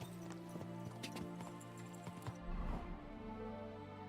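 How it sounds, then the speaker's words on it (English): Video game horse hooves clip-clopping along a road, a steady run of light hoof strikes with a louder thud near the middle, over a constant low background hum. "There's the horse."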